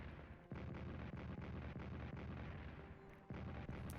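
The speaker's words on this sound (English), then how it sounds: "we get a bit of artillery fire coming in, firing at 2 different points actually" Distant artillery in the World War 1 strategy game Strategic Command: a low, rumbling barrage of muffled booms in quick succession, faint and continuous.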